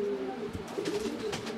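Racer pigeons coo continuously in a pigeon house, a steady low rolling murmur of several birds close by, with no talk over it.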